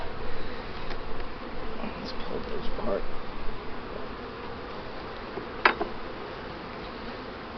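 Honey bees hum in a steady, close drone around an open hive during an inspection, with a brief sharp knock of hive parts being pulled apart and someone speaking briefly over the buzzing.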